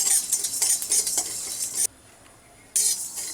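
Cumin, coriander seeds and cardamom pods dry roasting in a pan, stirred with a spoon that scrapes and rattles steadily, pausing briefly before the scraping resumes.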